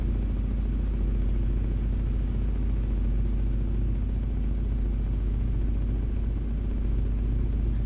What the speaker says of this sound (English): Oh, the loud engine sounds like it's yours.